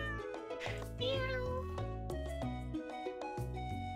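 A cartoonish cat meows in the farming game Stardew Valley, a short mew riding over bright, steady game music, with no talking.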